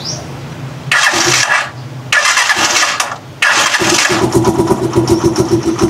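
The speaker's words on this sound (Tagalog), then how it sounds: "Napakatahimik din ng makina nito guys." A Rusi Chariot 175 trike engine cranks in three short bursts separated by brief pauses, then catches and settles into a steady, even idle. The engine is loud and close.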